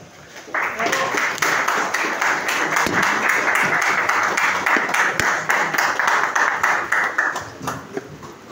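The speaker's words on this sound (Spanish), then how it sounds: "un fuerte aplauso para la señora Claudia Panicello" Audience applause after a poetry reading, swelling in quickly and holding as a full, steady patter of many hands before thinning toward the end.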